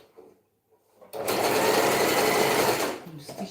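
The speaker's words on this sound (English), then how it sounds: "I'm stitching with my needle." A sewing machine stitches in one loud, continuous whirring burst of about two seconds, starting abruptly after quiet handling sounds and stopping just as suddenly.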